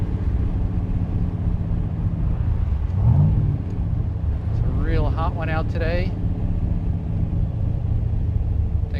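A 1967 Chevrolet Corvette Stingray 427 convertible cruises with a steady low engine rumble throughout, someone talking briefly over it in the middle.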